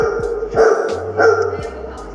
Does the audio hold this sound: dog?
yes